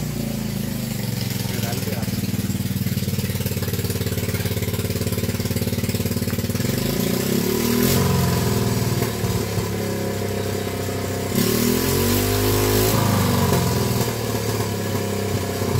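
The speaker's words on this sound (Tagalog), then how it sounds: "Grabe yung motor niya, parang helicopter." A loud motorcycle engine idles with a steady, throbbing chug and revs up twice, swelling in pitch before settling back, close by and continuous, with people talking over it.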